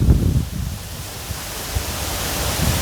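Strong wind buffets the microphone outdoors during a smoky fire, with rumbling low gusts that peak at the start and return in bursts over a steady broadband roar.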